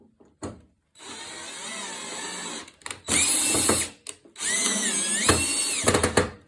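A cordless power drill runs a screw in reverse while a TV mount is fastened, several short whirring bursts of rising and falling pitch separated by brief pauses, close and fairly loud.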